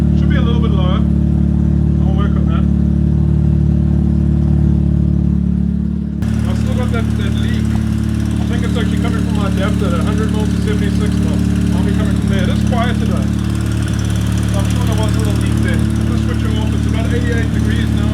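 A Mazda RX7 rotary engine idling at about 1,000 RPM in a garage, a steady, loud, close low drone that runs throughout. A person talks over it.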